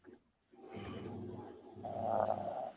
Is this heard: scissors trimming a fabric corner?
no